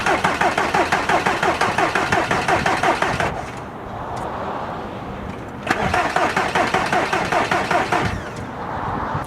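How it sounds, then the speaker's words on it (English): Diesel VW Beetle starter cranking the engine in two rapid, rhythmic bursts of several seconds each, with a quiet pause between them, and the engine never catching; loud and close, no voices. "The engine did not have enough power to crank up yet"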